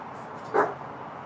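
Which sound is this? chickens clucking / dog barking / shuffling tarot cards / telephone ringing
dog barking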